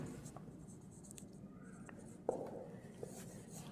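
Chalk or marker scratches across a classroom board during a grammar lesson, with faint intermittent strokes and a small tap, soft and close, over a quiet room hum.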